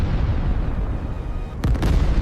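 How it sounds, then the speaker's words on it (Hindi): A missile strikes a ship at night in an animated naval attack, heard as a loud, dense rumbling blast with sharp cracking bursts near the end, sustained and close without talk. "धमाका"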